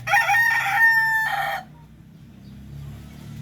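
A rooster crows loud and close in one long, bright call with several harmonic rises, then falls away into a quiet, low background hum.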